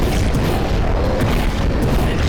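A dark eco bomb detonates in Jak and Daxter, a loud, deep booming blast whose low rumble holds steady and fills the whole moment without any voices.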